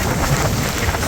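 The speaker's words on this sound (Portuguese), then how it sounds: "As rajadas de vento forte e a chuva intensa provocou caos no trânsito em Viana do Castelo" A heavy rainstorm with strong gusting wind in Viana do Castelo makes a loud, dense, continuous roar of pouring rain and rushing wind, with no break and no voices.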